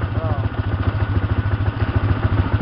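An ATV engine runs steadily on a first ride, a close, rough, pulsing idle-like drone with clattery mechanical texture throughout, while people talk over it.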